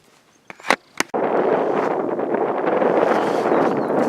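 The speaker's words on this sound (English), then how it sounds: "It is getting windy, so I'll talk louder." Gusty wind buffets the microphone on a desert hillside south of Quartzsite near mine tailings, starting after a couple of brief knocks and then roaring steadily and loud for the rest.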